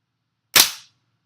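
A single sharp crack from a WE Apache MP5 gas blowback airsoft gun, close and bright, decaying within a fraction of a second into silence.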